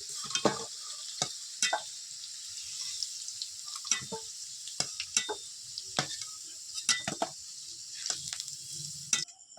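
Turmeric-fried potatoes are slowly lifted out of a pan of hot oil, with a steady close sizzle punctuated by sharp, irregular spatula clinks against the metal.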